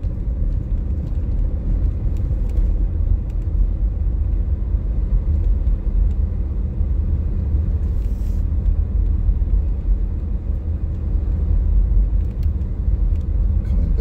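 A car driving through a small snowy town, a loud steady low rumble of engine and road noise from inside the cabin, continuous and unbroken.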